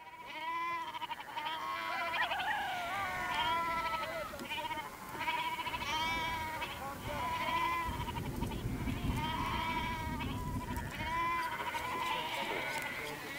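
Goats bleat repeatedly in short, wavering calls, with people talking quietly underneath, in rural Iran.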